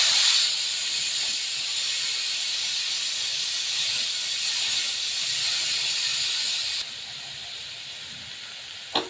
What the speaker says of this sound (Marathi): तर कुकरची शिट्टी ना वाफ काढून घेते